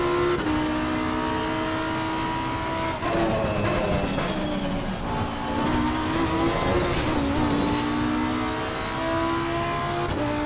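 A Lamborghini Huracan race car in Assetto Corsa Competizione at Donington gives a loud, close engine roar that rises and falls through gear shifts and revs.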